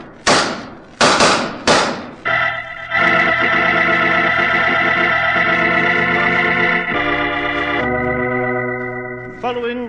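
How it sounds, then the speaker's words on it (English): A radio drama exchange of gunshots: three sharp, loud bangs in quick succession at the start, followed by a sustained, swelling orchestral music cue that shifts chords before fading. "Following that exchange of shots, Roger Prescott died."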